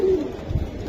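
Up close, a Giribaz pigeon gives a short, soft, low coo that fades quickly into a murmuring background.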